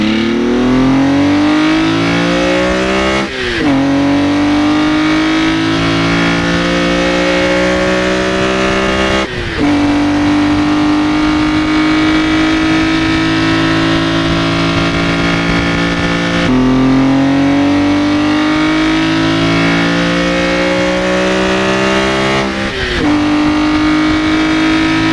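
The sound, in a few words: BMW M3 engine revving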